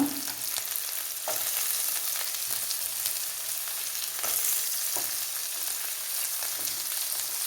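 Curry leaves and coconut pieces fry in a pan for pork ularthu, a continuous close sizzle broken by several sharp scraping stirs of a spoon.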